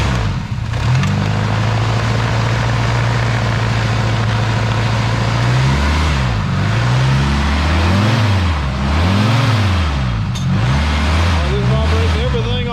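A 1972 Ford Pinto Runabout engine runs loud and close, holding a steady idle before being blipped repeatedly into rising and falling revs, with a rattle and people talking over it.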